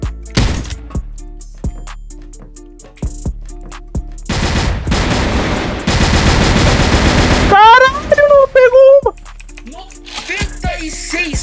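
Gunfire in a shooting video game: loud bursts of rapid automatic fire and single shots cut in and out, mixed with other game sounds and brief voices.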